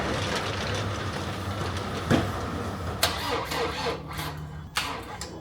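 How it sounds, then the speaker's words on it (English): A car that has sat unused cranks but fails to start, with a steady low mechanical drone broken by several sharp clicks and knocks, fairly close, no talking. "Engine won't start."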